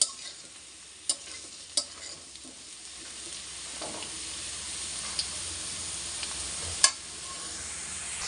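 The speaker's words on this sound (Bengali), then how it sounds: "আলুগুলো আমার ভাজা ভাজা প্রায় হয়ে গেছে, লাল লাল কাছে গেছে।" Potatoes, nearly browned, fry in a pan with a low steady sizzle while a utensil scrapes and taps against the pan a few times, sharp clicks standing out over the quiet hiss.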